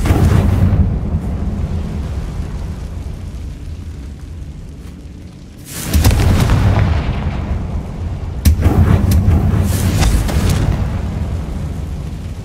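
Two heavy booming blasts from the Confringo spell in Hogwarts Legacy, spaced a few seconds apart, each a loud burst that rolls into a long rumbling decay inside a tomb setting.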